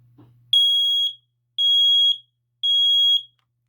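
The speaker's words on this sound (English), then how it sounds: "Now here's Garrett, a Garrison 46-0081-8." A Garrison 46-0081-8 smoke alarm gives three loud, piercing electronic beeps of about half a second each, evenly spaced, after a faint low hum and a small click.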